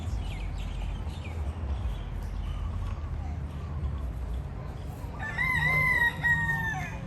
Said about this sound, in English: The fall cock is crowing.